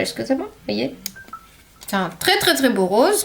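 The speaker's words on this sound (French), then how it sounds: "Désolée, c'est mon téléphone qui a sonné." A mobile phone gives a short electronic tone during a makeup tutorial, a single brief beep heard between a woman's French speech, which goes on before and after it.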